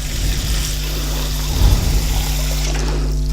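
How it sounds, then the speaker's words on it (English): A container being refilled with warm water while dyeing candy corn striped yarn, a steady rushing pour with a low rumbling swell midway, close and fairly loud. "refill it with warm water"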